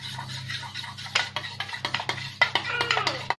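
Sugar being stirred into gajar ka halwa in a pan on a gas stove, a spoon scraping and clinking against the metal in quick uneven strokes, close and fairly loud.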